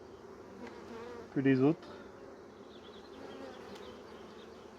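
Honey bees swarming over a brood frame in a Dadant hive, a steady, soft buzzing hum close by, with a short, louder tonal sound cutting in briefly and a quiet voice speaking.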